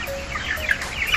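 Young chicks peep and cheep in quick, high-pitched bursts, several chirps overlapping close by over a faint background.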